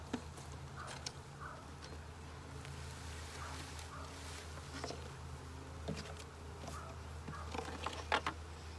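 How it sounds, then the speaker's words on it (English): A dense, steady buzz of a honeybee swarm fills the clip, close and constant, with occasional louder bees passing near. "There's so many bees in the box. That is a big swarm."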